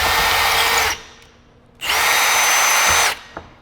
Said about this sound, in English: you grab your drill bit again, and you just drill through one hole into the other one